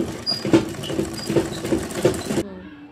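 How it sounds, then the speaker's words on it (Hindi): A sewing machine stitches along the edge of a beltless salwar, giving a close, steady, rhythmic mechanical chatter for a couple of seconds before stopping abruptly. "किनारे की साइड में ही सिलाई लगाते जाएंगे"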